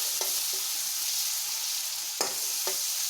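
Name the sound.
frying and stirring in a pan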